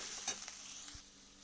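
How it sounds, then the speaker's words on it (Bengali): Pitha dough frying lightly in a pan, a soft continuous sizzle with a couple of brief scraping stirs near the start, close but quiet and short. "তো দেখুন আমি হালকা করে এটাকে ভেজে নেব।"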